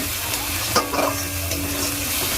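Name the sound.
stirring chicken with turmeric and chili powder in a pan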